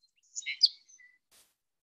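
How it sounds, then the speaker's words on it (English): Song sparrow singing in the Chicago area, a short bright burst of several clear whistled and buzzy notes, then a faint trailing trill and a soft high rustle, close and alone. "Here's the song sparrow's song."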